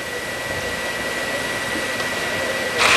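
A Dremel rotary tool sharpens a chainsaw cutter, producing a loud, continuous high-pitched grinding whine that holds steady and swells brighter in the final moment.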